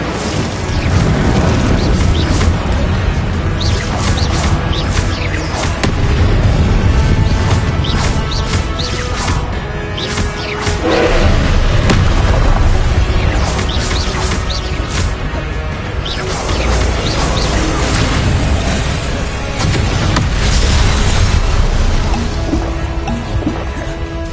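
Spell explosions from Confringo and Incendio in Hogwarts Legacy, a loud continuous barrage of booming blasts, crashes and whooshes that pulse in waves over several seconds, with no clear speech.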